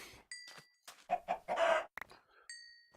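Chickens cluck and squawk in the farming video game Magic Farm, a series of short, bright calls scattered across the moment, fairly faint with quiet gaps between them.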